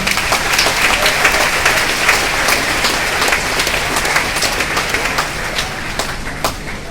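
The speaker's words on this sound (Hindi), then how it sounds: "तालियों से स्वागत।" An audience at Allen Kota gives a guest a welcoming round of applause, loud continuous clapping from many hands that holds steady for several seconds before easing slightly.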